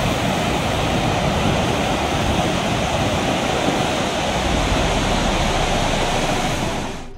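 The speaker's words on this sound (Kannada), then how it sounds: "ತುಂಗಭದ್ರಾ ನದಿ ಅಪಾಯದ ಮಟ್ಟ ಮೀರಿ ಹರಿತಾ ಇದೆ" Swollen Tungabhadra river in flood, running above the danger mark near the Harihareshwara temple gopura, roars as a loud, steady rush of water that holds constant throughout with no voices.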